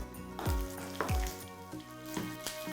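Green chilies dropped into a hot pan for wheat rava kichadi, with a few sharp sizzling bursts and low thuds over a continuous frying hiss and faint background tones.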